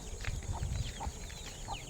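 A chicken clucks a few times at a distance over a steady low rumble of outdoor background noise.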